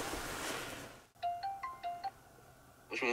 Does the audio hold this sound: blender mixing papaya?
no